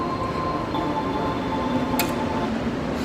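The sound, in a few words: metro train arriving at station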